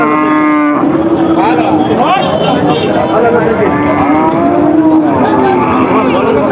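Cattle moo loudly over a busy crowd of people chattering, with several long lowing calls through a noisy outdoor cattle market din at Satmail cattle market in Jessore, Bangladesh, where dry cows are bought and sold.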